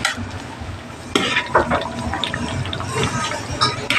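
A spoon briskly stirs ginataang sitaw, kalabasa and okra, a coconut-milk stew of string beans, squash and okra, in a pot, giving wet scraping and sloshing strokes in a quick irregular rhythm, close by.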